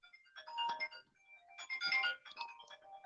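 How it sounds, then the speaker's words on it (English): A telephone rings with an incoming telemarketer call, two quiet electronic ringtone bursts of warbling beeps separated by a short gap, heard alone and faint. "Just gonna let telemarketer just keep ringing."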